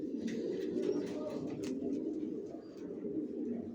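Racer pigeon squabs coo steadily and close, a low continuous murmur of soft coos throughout, with faint chirps above.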